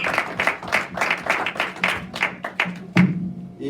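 A church congregation at an opening service of an evangelical church in Columbus claps in a fairly rhythmic, rapid series of close, loud claps. The clapping thins out near the end, and a thud lands in the final second.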